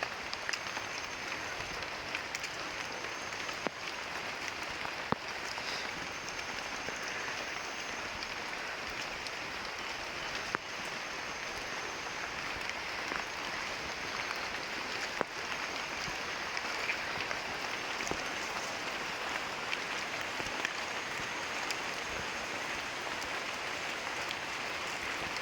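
Drizzle and steady rain patter inside a tunnel, a dense continuous hiss with scattered sharper drops throughout and no voices.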